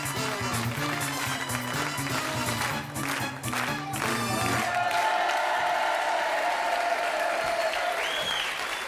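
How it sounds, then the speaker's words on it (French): Television game show studio audience applauding loudly and steadily, with music and a few cheers mixed in at first, then a dense, sustained wash of clapping. "je voudrais qu'on applaudisse quand même fort, fort, fort Richard"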